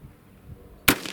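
A single sharp gunshot from an iron-sighted rifle cracks out loud and close at an outdoor shooting range, breaking an otherwise quiet stretch near the end, followed by a brief echoing tail.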